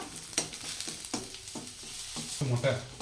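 Stirring in a frying pan while drumstick leaves and egg cook for a stir-fry, with repeated scraping strokes over a steady sizzle, close up and moderately loud.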